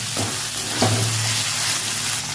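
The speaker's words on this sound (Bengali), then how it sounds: "ভালো করে নেড়ে করে ভেজে নেবো।" Onion, tomato and green chillies stir-frying in a pan, a loud continuous sizzle close by with a couple of quick stirring scrapes.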